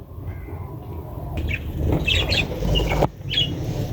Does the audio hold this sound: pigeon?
yes